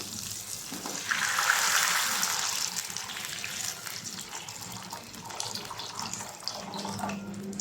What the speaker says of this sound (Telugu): అన్నీ ఫ్రై అయిపోయాయి కాబట్టి వాటర్ పోసేసుకుందాం